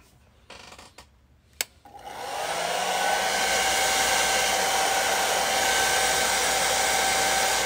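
A hair dryer used to dry a painting starts after a few soft handling clicks and rustles, then blows at a loud, steady whir close by until the end.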